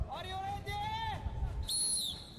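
At a SWAT challenge assault course at the UAE SWAT Challenge 2023, a starter blows a single shrill whistle blast near the end, after a voice speaking over crowd noise.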